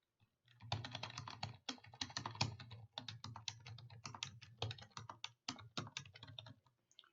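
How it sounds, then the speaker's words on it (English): Soft, fast typing on a computer keyboard, a steady run of close, quiet key clicks with brief pauses between bursts, heard alone without talk. "So I typed demo page in"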